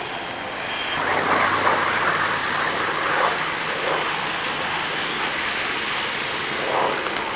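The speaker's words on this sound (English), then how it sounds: "Steve Nugent in this wonderful example of the Hawker aviation arc, one of the most powerful piston engine aircraft ever built" A powerful Hawker piston-engine aircraft performs at the North Weald airshow in 1999, its engine a steady, full-bodied drone that swells slightly and holds for several seconds with no voices.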